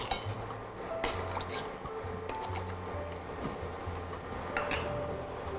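Coconut milk being stirred into a gravy in a cooking pot, with faint clinks of a utensil against the pot and soft liquid movement under a steady low hum.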